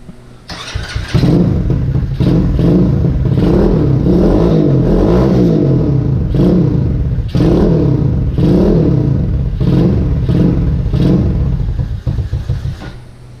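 A Vader 125 motorcycle, a Grom clone, revs its small engine through a new exhaust with the baffle fitted. Loud, close bursts of throttle rise and fall repeatedly, with brief dips between revs before it settles back to idle.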